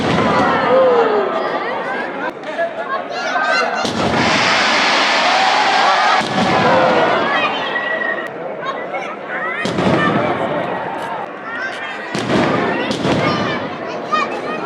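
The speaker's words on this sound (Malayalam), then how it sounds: "പൂരത്തിൻ്റെ സാമ്പിൾ വെടിക്കെട്ട് ഇപ്പോൾ തുടങ്ങുമെന്ന് പറഞ്ഞിട്ട് നമ്മളത് കാണാൻ വന്നൊക്കെയാണ്" Sample fireworks at Thrissur Pooram burst in a string of loud, sharp booms and crackles, separated by short gaps, with a busy crowd murmuring underneath.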